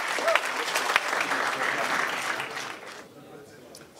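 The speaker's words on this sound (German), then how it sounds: "Jetzt mal Applaus wert für ein Kabinett," Applause from the audience at a wine auction for a Kabinett from old vines, a dense wash of clapping that fades out after about three seconds and leaves near silence.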